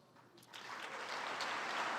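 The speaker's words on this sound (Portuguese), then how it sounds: "Eu quero que vocês deem uma salva de palmas para a galera que fez a arte." A church congregation breaks into applause, swelling quickly from a soft start into a dense, continuous wash of clapping that holds steady, heard somewhat faintly without any speech.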